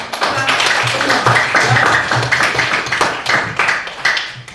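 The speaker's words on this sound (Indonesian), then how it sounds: "Tepuk tangan dulu untuk" A classroom of students clapping hands together, close and loud, with a rhythmic, slightly uneven pattern of claps continuing throughout.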